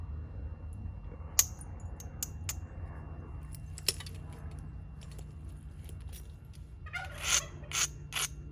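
Turkeys gobbling in the distance outdoors over a steady low background hum, faint calls with a few sharper clicks and clinks nearby, grouped mostly toward the end.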